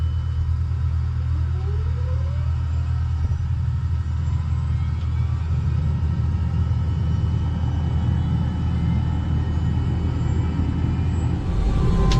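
An Airbus H130 T2 helicopter idles at the Pará de Minas airfield before takeoff, making a loud, steady low rumble of engine and rotor with a constant turbine whine over it.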